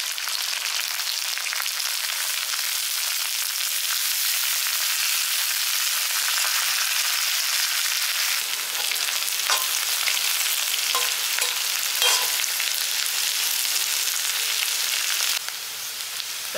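Pirandai (veld grape) pieces sautéing in a pan, a loud, continuous close-up sizzle with intermittent stirring scrapes and clicks, alone with no voices.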